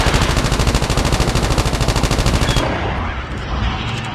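Rapid automatic gunfire in Call of Duty Mobile, aimed at a zombie, rattles loud and steady for over two seconds before cutting off into quieter rumbling game noise.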